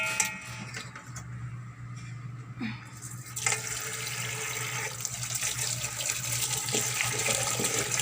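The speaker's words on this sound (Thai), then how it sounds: "เอาไปล้างอีกทีนึงก่อน ล้างทีนึง นะครับ ล้างให้สะอาดก่อนครับ" Tap water runs steadily over herbs being rinsed for a home herbal remedy. The flow starts softly, then swells into a louder, continuous rush that lasts to the end.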